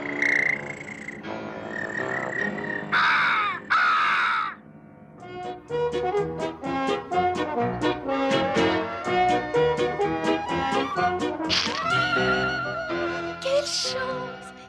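Crow cawing in a Smurfs cartoon: a few harsh, loud caws at the start, followed by busy orchestral cartoon music with no talking.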